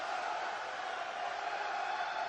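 Crowd at a darts tournament, the 2019 Czech Darts Open, a steady distant wash of cheering and chatter from a large audience, fairly faint and continuous with no single standout voice.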